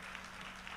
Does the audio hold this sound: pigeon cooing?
no